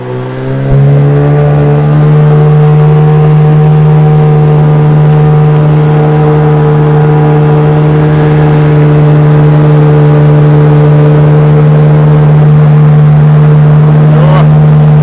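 A vehicle engine held at high revs, a loud, steady droning roar with strong humming tones that runs nearly unchanged for about fifteen seconds, close by and with no talking.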